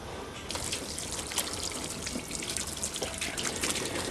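Continuous splashing and trickling water rinsing polish off car paint, a steady close hiss with small irregular spatters throughout.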